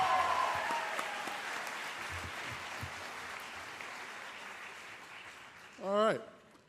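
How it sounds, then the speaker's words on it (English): Graduation audience applauds in a large hall, a broad steady patter of clapping that gradually tapers off, ending with a brief rising whoop or voice near the end. "Another round of applause for Jackson Mann, everybody."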